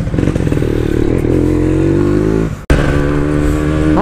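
A Yamaha RX King two-stroke motorcycle with its stock exhaust, not yet swapped for a PK3, revs loudly and close, its rasping note climbing, dropping out briefly, then returning to a steady high rev.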